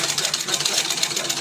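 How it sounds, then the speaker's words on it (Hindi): A sewing machine runs while stitching fabric, its stitches coming out uneven. A close, steady, rapidly pulsing mechanical whir holds throughout the short stretch. "मशीन चला रहे हैं। देखो सिलाई सीधी नहीं जा रही है"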